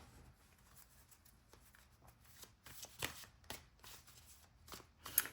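Tarot and oracle cards are shuffled in quiet, soft riffling and sliding bursts, growing denser and a little louder toward the end, close by with no talk.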